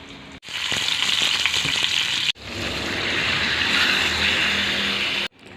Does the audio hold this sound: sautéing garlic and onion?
yes